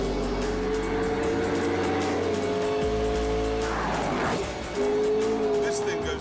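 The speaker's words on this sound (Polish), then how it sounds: "To coś rozpędza się do 250 na godzinę, szybciej niż Golf do 100." McLaren P1 supercar on Pirelli tyres accelerating hard, a loud continuous engine drone with rising harmonic pitch, a brief gear-change dip midway, then pulling again; tyre noise and a narrating voice run underneath.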